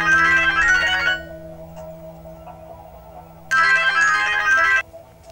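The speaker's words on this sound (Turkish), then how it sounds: "Telefonun çalıyor." A mobile phone plays an electronic ringtone indoors in two loud bursts of about a second each, separated by a pause, over a low steady background hum.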